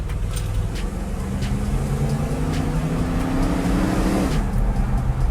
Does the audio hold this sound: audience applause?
no